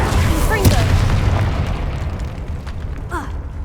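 A Confringo fire spell explodes in Hogwarts Legacy as a deep, loud boom with a rumbling tail, followed by softer magical whooshes and game effects.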